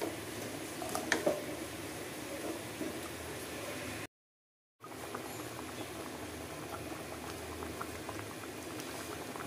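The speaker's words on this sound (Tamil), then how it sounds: "நல்லா கொதிக்குது." Thin Tamil salna gravy boils in a pot, giving a constant bubbling and popping simmer at close range with a few louder bursts early on and a brief gap of silence partway through.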